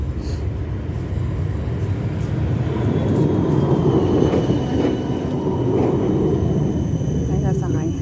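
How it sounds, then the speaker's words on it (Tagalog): A tram pulls in along a street in Amsterdam, a steady low rumble and rolling rail noise at moderate distance with faint squeals, while a person talks over it. "Ayan na ang tram"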